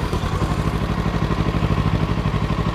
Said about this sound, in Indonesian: kita dengerin dulu yuk, suara mesin 250cc Euro 5 Plus.